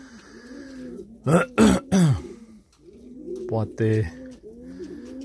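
Staropolski Polish pigeons coo in a loft, soft low calls with a few louder throaty bursts close by, while someone speaks quietly.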